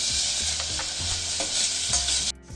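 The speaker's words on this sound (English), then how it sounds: "add carrot to it and this will saute for 1-2 seconds" Carrots sauté in a pan with a loud, continuous sizzle while a utensil stirs and scrapes in quick repeated strokes, the frying dropping off briefly near the end.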